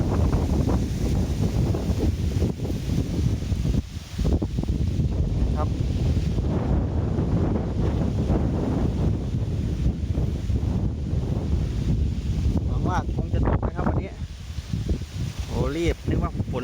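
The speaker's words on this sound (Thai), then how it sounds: "ในกล้องคงได้ยินเสียง ลม นะครับ" Strong wind ahead of a storm over a garden, roaring and buffeting the microphone loudly and continuously, with someone talking faintly beneath the gusts.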